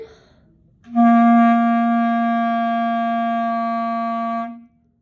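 A single sustained clarinet note, held steadily for about three and a half seconds, clear and close, then stops.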